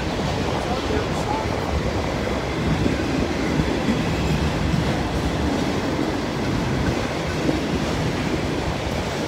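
A slow freight train hauling loaded auto racks creeps past at barely moving speed, a steady broad rumble with faint wheel clatter running unbroken throughout, moderately loud and close, with no voices.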